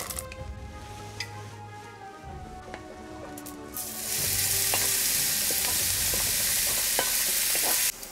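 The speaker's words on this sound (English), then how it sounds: "I want to let this ground lamb cook for a little bit before I start moving it around so I can add some color to the meat." Ground lamb sears in a pan for a shepherd's pie, with soft scraping and a few light knocks early on. Then the sizzle surges loud and bright and holds steady at close range.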